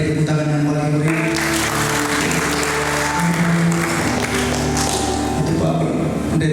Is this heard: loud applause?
yes